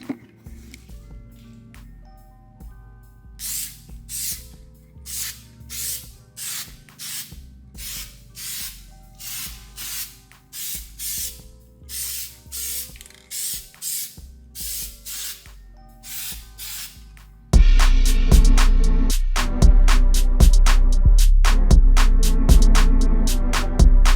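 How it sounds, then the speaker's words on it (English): Repeated short hissing bursts of spray paint in a steady rhythm, applying a second coat to BMW 535i rims, followed by a louder, continuous stretch of spraying over a humming machine. "Alright, so I'm gonna start spraying the second coat."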